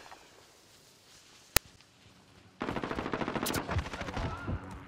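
Video game gunfire, a single sharp shot after a quiet stretch, then a sustained rapid automatic burst that carries on loudly to the end.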